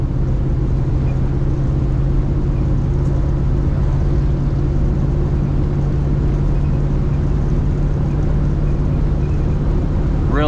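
A 1949 Ford Custom Convertible with a 239 engine and a three-speed column shift runs and drives, its engine giving a loud, steady, close drone with a constant low hum and road rumble throughout.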